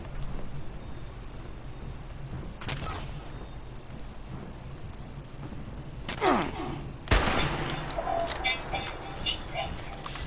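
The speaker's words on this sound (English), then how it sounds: "Liberator, you can keep on shooting at me." A Liberator robot fires at the player in the video game Fallout 76, with sharp bursts of gunfire breaking through a dense game soundscape and a loud blast near the end.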